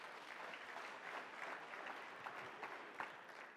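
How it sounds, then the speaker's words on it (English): An audience of graduates at a reskilling and career summit applauds, producing a steady, faint wash of many hands clapping at a distance, continuous and even throughout without speech. "Give yourself a big round of applause for that"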